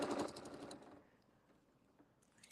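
A sewing machine stitching in the ditch during ruler quilting, a dense mechanical whir close by that runs for under a second, then fades to quiet room tone.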